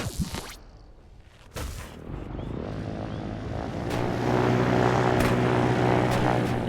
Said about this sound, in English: the helicopter engine is just too strong.